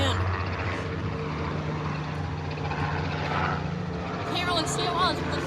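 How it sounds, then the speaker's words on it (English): A helicopter passes overhead with a steady, rumbling rotor drone that fills the background, while several people talk excitedly nearby over it. "There's a helicopter coming."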